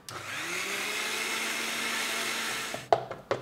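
A mixer grinder whirring steadily as it grinds mint chutney with curd, a loud continuous motor drone that cuts off near the end, followed by a few clunks and knocks.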